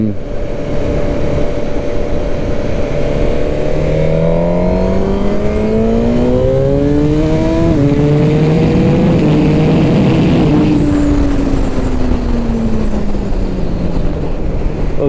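A Suzuki GSX-R 1000 R sport motorcycle engine revving hard through the gears, pitch climbing and dropping with each shift under heavy wind rush, loud and close.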